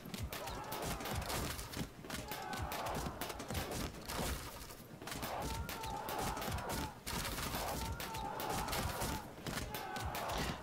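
Archers volley in the strategy video game Field of Glory II, a busy battle soundscape of repeated arrow fire. Sharp impacts and clattering keep up almost without break, with rhythmic pulses and faint tonal calls mixed in.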